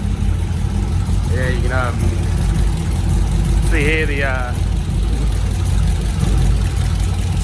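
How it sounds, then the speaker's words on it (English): A Mazda RX8 rotary engine fitted with 180-degree headers idles rough and rich, a loud, steady, uneven rumble running throughout while someone talks briefly over it. "Even as an idle, running rough as guts, rich as hell. Sounds pretty mean."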